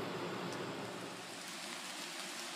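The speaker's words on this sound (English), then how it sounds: "It's raining over here" Rain falls steadily near an awning at a gas station along the Appalachian Trail above the Housatonic River, a soft, even hiss with no breaks.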